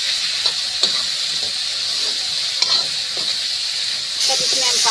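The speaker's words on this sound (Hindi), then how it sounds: "अब इसमें हम डाल देंगे केला, इसको भी हम 2-4 मिनट इसमें ही भूजेंगे।" Banana curry frying in oil in a kadhai, a steady bright sizzle throughout with scattered scraping clicks of stirring, close and continuous, without speech.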